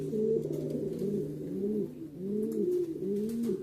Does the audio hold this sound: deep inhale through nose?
no